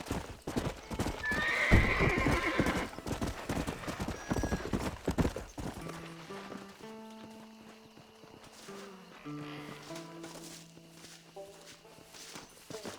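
A horse in Red Dead Redemption gallops with rapid, close hoofbeats and a whinny, then slows as the clatter fades beneath a soft melodic game score.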